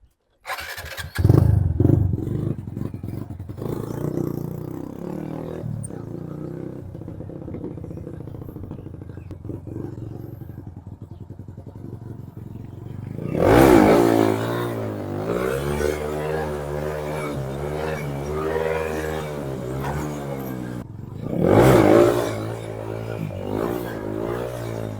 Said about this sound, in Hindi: बेसिक व्हीली की करके उठाना और फिर कंट्रोल करना फुट ब्रेक से उसको